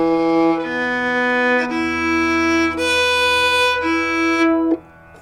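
Open strings of a violin sound in turn against a tambura drone set to E for Carnatic Indian classical tuning, long bowed notes of even length, near and full, ending with a quick fade and no voice.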